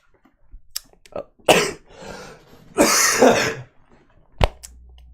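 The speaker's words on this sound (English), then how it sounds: "I didn't cough once before the stream started." Several harsh coughing bursts from one person, two long loud fits separated by quieter gaps and a sharp final cough, close to the mic with no talking.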